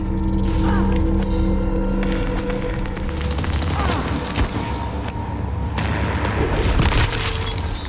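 Gunfire and booming impacts keep up without a break in the video game Prey as the glue cannon is used, dense and loud with thuds and crashing bursts throughout.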